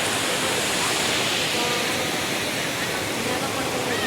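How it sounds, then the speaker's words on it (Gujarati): A waterfall near a Khodiyar temple in a forest setting makes a steady, dense roar of rushing water. It holds at an even level throughout, with no distinct breaks and no voices. "ધોધ"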